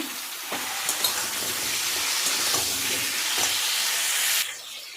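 Potatoes and carrots sizzle steadily in a hot pan, giving a loud, continuous frying hiss with a few soft clicks of stirring, then a sudden drop near the end.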